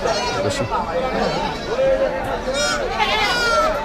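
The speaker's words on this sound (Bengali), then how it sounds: "এদিকেও কিছু ছাগল আছে।" Several goats bleat in wavering, drawn-out cries, one after another, over a noisy crowd of people chattering at a Qurbani livestock market in Kaitla.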